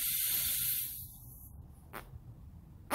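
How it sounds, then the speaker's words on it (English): Air blown through the fuel inlet of a carburetor from a 1985 Honda CR250 dirt bike, a close breathy hiss that fades after about a second, followed by faint brief puffs. "Now I'm going to turn the carb over like this. I can blow right through."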